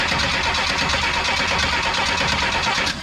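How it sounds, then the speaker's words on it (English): An old car, either a 1970 Chevrolet Nova or a 1999 Pontiac Firebird, cranks over steadily with the radiator hose pushed down, a continuous loud mechanical churn that drops off near the end, with no voices. "So the old man's going to turn the engine over and see if we're going to get fuel."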